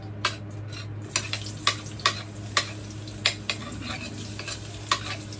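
Garlic fries in a pan with a soft sizzle under a steady low hum, broken by about a dozen sharp clicks and scrapes of a utensil on the pan at irregular intervals, close and fairly quiet, no talking.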